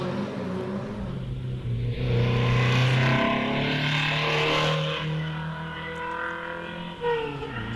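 A two-wheel-drive rally car leaves the start line at a night hillclimb, its engine rising in a loud, strained rev before the note holds, then drops away as it pulls off.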